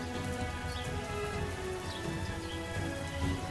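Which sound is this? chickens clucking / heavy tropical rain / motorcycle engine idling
heavy tropical rain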